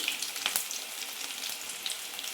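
Shallots fry in hot oil in a pan, a soft continuous crackle and sizzle with scattered small pops, fairly quiet and steady with no voices.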